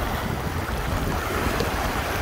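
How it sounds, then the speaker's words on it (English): Waves on Lake Michigan, a steady rushing wash of surf mixed with wind buffeting the microphone, broad and continuous without clear breaks. "have you seen these waves? They keep smacking me in the face."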